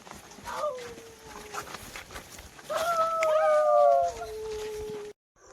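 A dog gives drawn-out, wavering howls that rise and fall in pitch, one after another, at moderate distance over faint background noise.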